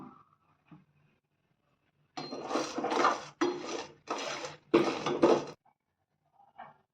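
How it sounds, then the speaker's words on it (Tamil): Lentils and dried red chillies dry roasting in a pan, heard as five close bursts of rattling, scraping stirring with brief quiet gaps, moderately loud, with faint clinks before and after. "இப்போ நம்ம எடுத்து வச்ச பருப்பு, காஞ்ச மிளகாலாம் போட்டு வறுத்துக்கலாம்."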